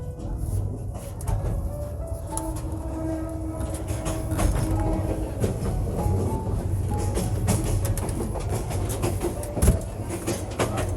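Mohonganj Express intercity train running, heard from inside a carriage as a loud, continuous rumble with rattling, rhythmic wheel clatter and occasional squeaks and knocks.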